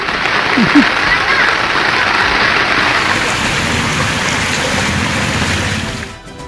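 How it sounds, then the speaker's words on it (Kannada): Heavy rain pours down across Koppal district, Karnataka, in a steady, dense hiss that holds throughout, then thins out near the very end. "ಕೊಪ್ಪಳ ಜಿಲ್ಲೆಯಾದ್ಯಂತ ಮಳೆ ಅಬ್ಬರ ಜೋರಾಗಿದೆ"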